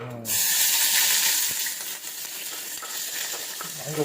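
Onions dropped into hot oil in a home kitchen pan for paneer biryani, starting a loud, steady close-up sizzle and crackle that continues throughout with small pops.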